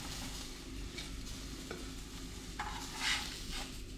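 Blue salmon fillet frying in its own released oils and juices in a pan, a low continuous sizzle with occasional spatula scrapes and a brief louder burst near the end, fairly quiet with no talking.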